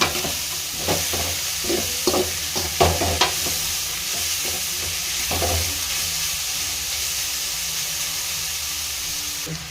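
Vegetables for veg fried rice frying on medium flame and being stirred, a steady close sizzle and hiss with a cluster of scraping stirs early on, then a continuous fry alone.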